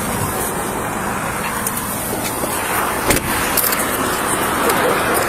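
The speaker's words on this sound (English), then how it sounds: "We're going to have to move my car to get her in there." A police car is moved at a DUI arrest scene in Pullman, Washington, its engine and road rumble a steady, close hiss with a brief metallic clink partway through.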